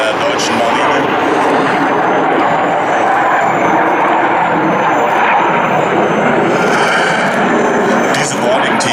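A Sea Lynx military helicopter of the German Navy flies during a live-flying exercise, producing a loud, continuous engine and rotor roar that persists steadily throughout.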